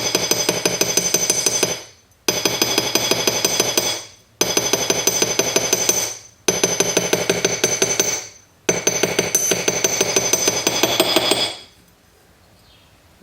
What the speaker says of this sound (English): now we'll just hammer it.